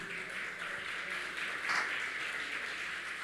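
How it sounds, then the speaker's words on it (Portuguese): A church congregation applauds during a worship service, giving sustained, fairly faint clapping that blends into an even wash of sound throughout. "Você pode dar uma salva de palmas para Jesus?"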